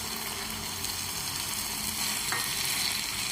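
Soya chilli being stirred in a hot pan: a steady close sizzle and frying hiss with soft scraping swirls of stirring running throughout.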